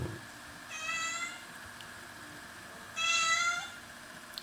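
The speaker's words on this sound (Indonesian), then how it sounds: "Ada kucing." A cat meows twice, each call drawn out for about half a second and spaced a couple of seconds apart, fairly close against a quiet indoor hum.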